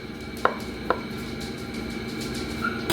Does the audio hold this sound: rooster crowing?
no